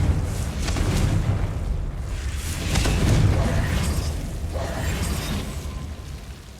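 The Confringo fire spell in Hogwarts Legacy bursts in a rumbling explosion with a couple of follow-up booms, moderately loud and rolling before fading out.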